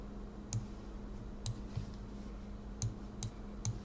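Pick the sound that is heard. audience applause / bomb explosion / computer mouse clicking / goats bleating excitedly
computer mouse clicking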